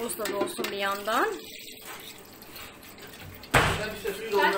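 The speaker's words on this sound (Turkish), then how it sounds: "Suyumuz da dolsun bir yandan." People talk briefly, then after a quiet pause a tap opens and water rushes steadily into a container nearby for tea.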